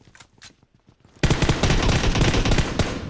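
Rapid, loud automatic gunfire rattles in PUBG Mobile, breaking in abruptly after a stretch of quieter scattered shots and then pounding on in a dense, continuous burst.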